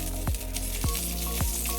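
Beef tallow melts in a hot pan with a steady, loud sizzle, broken by a few soft periodic thumps.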